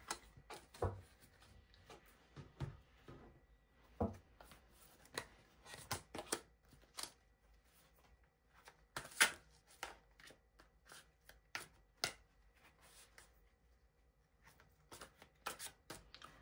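Advice cards for a card reading being shuffled and handled, giving repeated crisp riffling and slapping clicks in irregular bursts, close and fairly quiet, with no talking.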